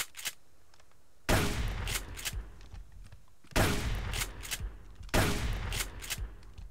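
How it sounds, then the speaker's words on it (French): Pump shotgun in the video game Subsistence fires three heavy, close blasts spaced a couple of seconds apart, each with a short ringing tail between quieter gaps. "Fusil à pompe ça donne quoi"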